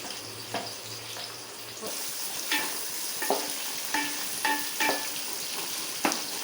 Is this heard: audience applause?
no